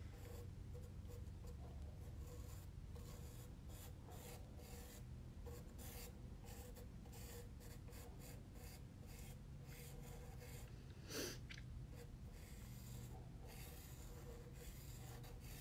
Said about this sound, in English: I'm currently sketching my image onto the underglazed piece.